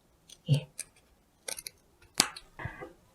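Scissors trim a fabric seam allowance down to half a centimetre while sewing a one-piece apron, giving several short, crisp snips with brief pauses between them, close and fairly quiet.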